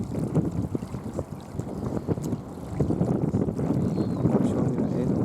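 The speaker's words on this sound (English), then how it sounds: "Wind is pushing my hand" Wind buffets a microphone outdoors on a carp fishing trip, rumbling low gusts that rise and fall and grow stronger toward the end, close and continuous.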